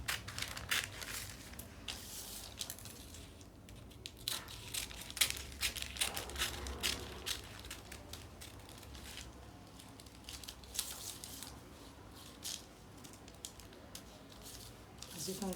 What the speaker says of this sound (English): I'm going to cut out the back armhole first, then I'll go in and cut for the front.